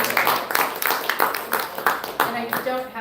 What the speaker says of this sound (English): Round of applause for Robin's time.